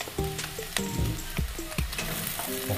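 Fried garlic hitting a hot frying pan, a steady close sizzle broken by several sharp clanks of a utensil stirring against the pan.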